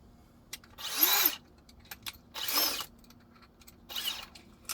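A power drill fitted with a square driver bit drives screws during an installation, giving three separate short whirring bursts spaced by pauses, each rising and falling in pitch, close and clear.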